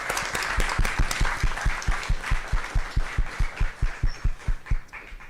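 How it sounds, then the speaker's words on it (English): Audience applause fills a school board meeting, a dense wash of clapping riding over a steady, regular thumping beat for about five seconds. "So give them a round of applause again for amazing achievement."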